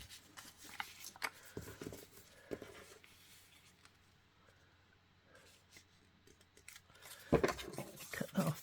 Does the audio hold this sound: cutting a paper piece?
yes